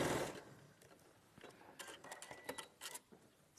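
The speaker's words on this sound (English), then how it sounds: "I'd have to quickly sew these together." A sewing machine stitching fabric pieces together in quick short bursts of rapid mechanical clatter, faint and close, with brief pauses between runs.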